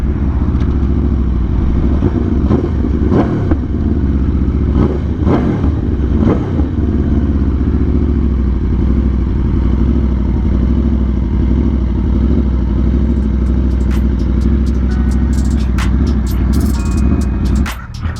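A 2022 Aprilia RSV4 1100 Factory motorcycle roars steadily throughout a test ride, loud and close with constant engine drone and wind rush, the pitch shifting gently as the engine speed changes.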